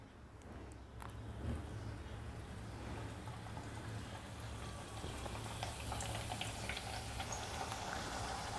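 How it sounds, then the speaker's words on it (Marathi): Puris frying in hot oil for sev puri, a steady quiet sizzling and bubbling hiss with faint crackles, continuous and close with no talking. "पुरी घालून घ्यायची आहे ह्या तेलामध्ये"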